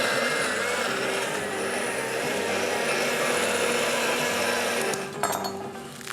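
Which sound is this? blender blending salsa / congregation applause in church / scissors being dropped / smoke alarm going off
blender blending salsa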